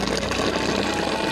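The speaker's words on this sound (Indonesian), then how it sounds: "pengaliran air untuk tiap warga" Water rushing steadily through a village water distribution channel, a dense, constant gushing flow with no break and no voices.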